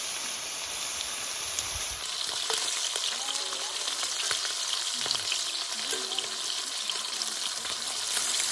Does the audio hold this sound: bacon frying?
yes